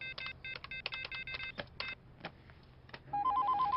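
A telephone placed on a call, with a burst of short dialing and button tones followed by a repeating ring tone at the end; faint and close, no talk.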